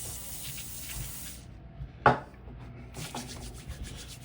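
Cooking spray hissing onto hands during spaghetti and meatball preparation, heard as a steady close aerosol spray that stops briefly and then resumes, with no talking.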